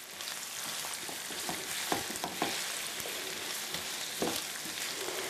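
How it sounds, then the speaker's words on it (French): Tofu and vegetables roast in hot oil in a pan, a dense, bright, close sizzle with scattered crackling pops and stirring scrapes. "faire rôtir graduellement le tofu"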